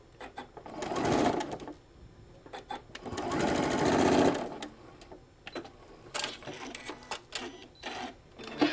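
Sewing machine stitching a half-inch seam on a shoulder bag, two sustained bursts of whirring motor and needle chatter close by, each a second or so long, followed by scattered clicks and fabric handling.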